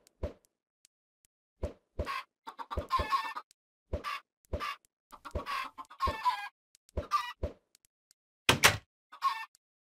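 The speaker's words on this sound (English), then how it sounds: "Chickens there." Chickens in the Minecraft video game cluck in short, repeated bursts with brief pauses between, some calls close together in quick pairs, clear and alone without talk.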